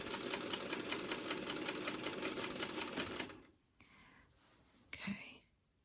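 A sewing machine stitching a quarter-inch seam on a quilt block runs steadily and close for about three seconds, then stops, leaving faint handling noises and a brief soft voice.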